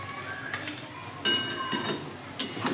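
Roughly mashed boiled potatoes stirred in a pan for vada pav filling, with scraping spoon strokes and soft clinks against the pan over a faint sizzle, close and fairly quiet.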